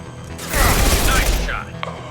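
Gunfire in Mass Effect 2, a dense burst of rapid shots and impacts lasting about a second, loud and close, amid game combat noise.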